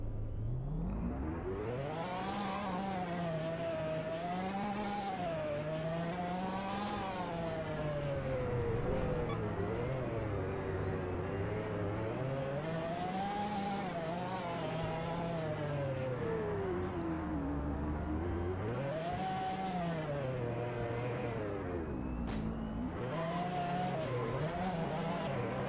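A Lamborghini Aventador engine in the Roblox driving game, revving loudly and continuously with rising and falling pitch as it accelerates and shifts, joined by occasional tire squeals and skids.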